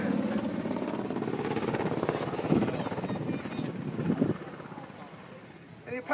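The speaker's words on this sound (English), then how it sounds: "The Apache is going to rapidly accelerate with a 90-degree nose down and a left-hand twist." An Army Apache helicopter in a display flight at an airshow accelerates nose down with a left twist, its rotor thump and engine roar continuous and fairly distant, with wind buffeting and a commentator talking over it.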